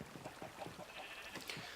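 Sheep on a Minecraft sheep farm bleat softly, several short overlapping calls repeating across the moment at low volume with no talk.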